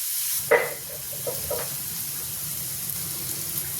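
Chopped onion and garlic frying in a pan for a dried prawn dish, a soft steady sizzle with a few light stirring clinks near the start.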